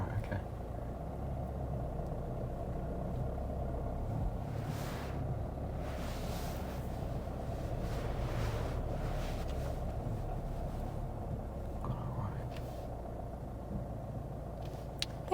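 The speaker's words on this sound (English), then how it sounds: "If you could continue reversing, please." Car reversing slowly during a driving test, a steady low engine hum with wind noise running continuously throughout, no talk heard.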